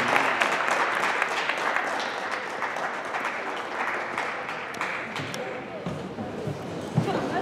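Crowd applause at a high school basketball team event, dense clapping that holds steady and then gradually thins, with a few sharper bangs and a voice speaking over it near the end.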